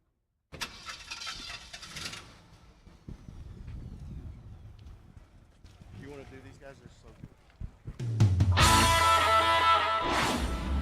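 Vintage rally cars at the Great Race in Amarillo, Texas crank and start, with early engine noise under talking, then a loud burst of revving as a car pulls away close by near the end.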